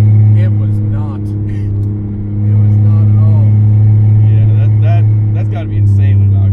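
A modified 2002 Chevrolet Impala's engine rumbles very loud and close, with a heavy low drone that swells in a few revs, while people talk over it.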